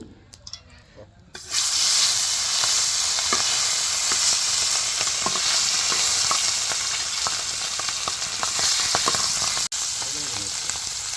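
Puti fish frying in a pan with turmeric powder, a loud steady sizzle that bursts in after a quiet start and holds dense and close, with small pops and stirring scrapes throughout.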